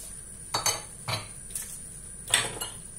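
Kefta being mixed with coriander and parsley in a dish, heard as a few quiet utensil clinks and scrapes against the bowl in short separate bursts.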